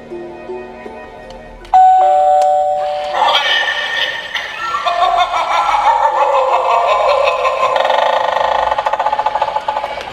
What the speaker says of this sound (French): Regardez, il y a une sonnette.